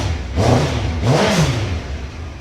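Car engine in a workshop fired up with a push clutch and revved twice, two rising-and-falling roars close by over a steady idle.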